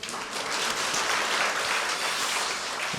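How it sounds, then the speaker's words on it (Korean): Church congregation at a Korean Sunday worship service breaks into sustained, dense applause, a loud even roar of many hands clapping without a break and no voice over it. "우리 하나님께 영광을 박수드리겠습니다"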